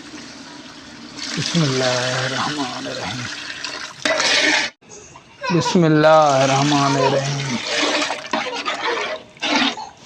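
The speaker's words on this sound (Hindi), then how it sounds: "फिर इसमें शामिल करेंगे चावलों का पानी।" Water drained from soaked rice is poured into a pot of cooking chicken biryani, making a sustained splashing rush broken by a brief pause, with someone speaking over it.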